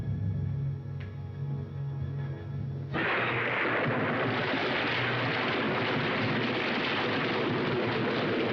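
Heavy rain pours steadily from about three seconds on, a dense loud hiss that follows a stretch of low indoor rumble; no voices.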